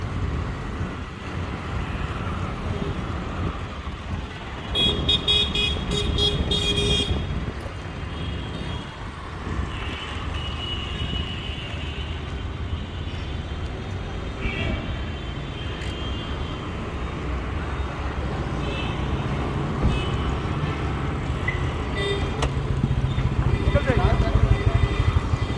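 Busy Varanasi street traffic rumbles continuously nearby, with engines passing and a burst of high beeping horns early on, under occasional voices in the dusty, noisy Indian city.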